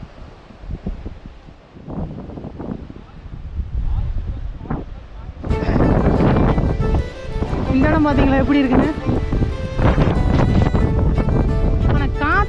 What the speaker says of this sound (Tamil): ஆடி மாதம்ன்றதுனால காற்று பயங்கரமாக வீசுது